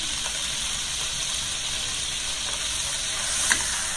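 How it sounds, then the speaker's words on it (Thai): Pork and crushed garlic stir-fry in hot oil, a continuous loud, bright sizzle with faint scraping of a utensil throughout. "ผัดเนื้อหมู"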